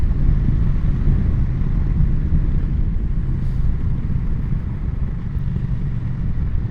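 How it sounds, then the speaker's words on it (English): Triumph Bonneville T100 motorcycle at 70-75 mph, a steady low exhaust burble under heavy wind rush, continuous and loud throughout. "even at 70-75 miles an hour, you can still hear that exhaust just burbling away behind you"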